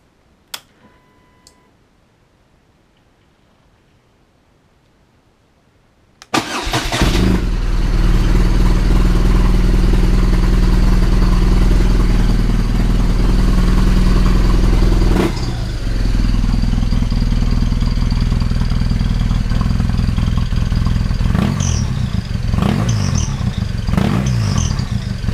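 A BMW R1200RT motorcycle fitted with a Dominator exhaust starts after a few seconds of near silence with small clicks, then idles loud and close with a deep, steady rumble; a brief blip around the middle, then a continued idle.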